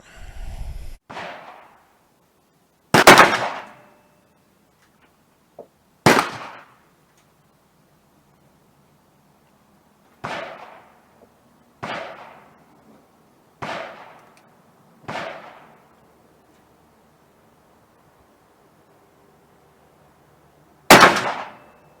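A .44 Magnum revolver firing handloaded hunting rounds with Winchester 296 powder at an outdoor range: eight sharp, loud reports at uneven intervals, each with a short ringing decay and quiet gaps between.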